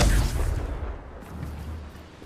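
In the Hogwarts Legacy video game, a Confringo explosion spell bursts with a loud, deep boom that rolls into a rumbling, fading tail.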